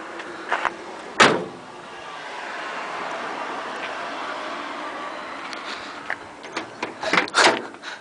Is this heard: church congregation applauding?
no